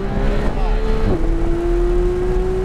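Supercar on a race track pulling out of a corner, its engine note sliding down as it shifts and then climbing steadily, loud and close from inside the cabin with steady road rumble beneath.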